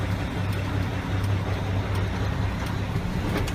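A tractor-trailer truck pulling away gently in first gear during a pre-trip brake inspection: a low, steady engine drone close by, even throughout, with no talking.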